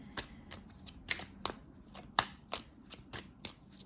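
Tarot and oracle cards being handled and shuffled, a rapid series of crisp close flicks and riffles in an uneven rhythm, quiet and alone with no voices.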